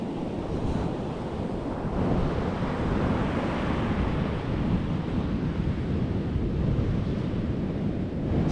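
Ocean surf rolls in steadily at an empty beach where shallow water runs strong, a continuous loud wash of breaking waves with heavy wind buffeting the microphone.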